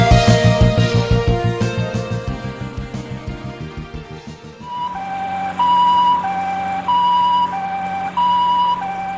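A loud ambulance siren alternating between two pitches in a steady hi-lo pattern, preceded by a rapid wailing sweep, close and unbroken.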